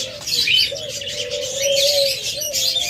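A ringneck dove pair, one nearly white and one silver with black neck rings, gives soft cooing calls near the listener, with a few higher chirps from other caged birds mixed in.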